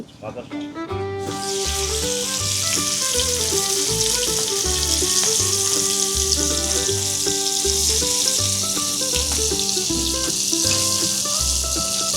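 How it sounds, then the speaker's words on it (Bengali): Hilsa fish sizzling loudly and steadily as it fries in oil at Mawa Ghat, a constant crackling hiss with music playing over it throughout. "এই সেই মাওয়া ঘাটের ঐতিহ্যবাহী ইলিশ মাছ ভাজা দেখতে পাচ্ছেন"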